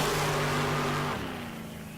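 Drag racing car launching down the strip at a Tucson drag meet, a loud revving roar that drops off sharply partway through and fades into a lower, fainter rumble.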